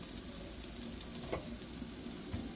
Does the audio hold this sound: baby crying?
no